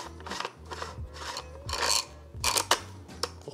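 Barrel being screwed back onto an M3A1 grease gun, a series of short metallic rasping and grinding turns with brief pauses between them, close and alone.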